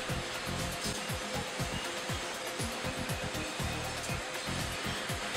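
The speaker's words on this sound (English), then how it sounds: "Tons of garbage each day goes up these conveyor belts where man and machine work together to separate everything into their appropriate categories." Recycling plant conveyor belts and sorting machinery hauling tons of garbage, a continuous loud mechanical whir with rapid rattling clatter and repeated knocking underneath.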